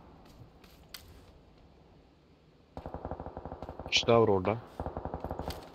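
Rapid bursts of video game gunfire, including silenced and sniper weapons, crackle in a fast steady rhythm through the second half, close and fairly loud, with someone speaking over the shots.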